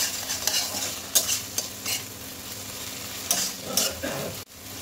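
Tomato with salt and turmeric stirred into sizzling spices in a pan for a potol, potato and soybean curry, soft scraping strokes over a steady frying hiss, close and fairly quiet.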